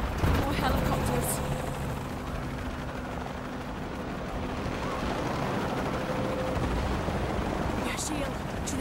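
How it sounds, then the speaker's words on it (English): Helicopter rotor noise drones throughout amid explosive booms and gunfire in the video game Shadow of the Tomb Raider, with voices talking intermittently over the din. "More helicopters."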